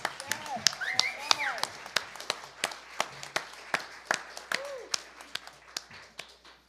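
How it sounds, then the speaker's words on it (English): An audience claps for Mark Elliott at a Sunday morning spiritual service, a steady run of sharp, distinct claps close by and fairly sparse, continuing for several seconds. "let's give a warm CSL version of a clapping to Mark Elliott"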